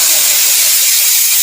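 Steam rushes from a kitchen pressure cooker in one loud, continuous hiss lasting just over a second.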